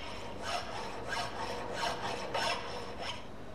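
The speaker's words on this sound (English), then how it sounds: "Filing this piece of mild steel removes a lot of material with each stroke." A coarse file rasps across a piece of mild steel in a workshop, about six steady back-and-forth strokes at a moderate pace, each a gritty scraping burst, close and fairly quiet with no talking.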